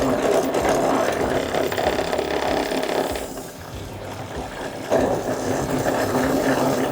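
A powerful cotton candy machine spins up at higher speed, giving a loud steady whirring motor drone with a rattling mechanical buzz that dips briefly midway and then surges back, with no talk over it.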